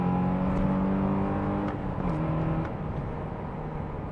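A car engine revs loudly and steadily, its pitch climbing and then dropping as it shifts through gears, with no talking.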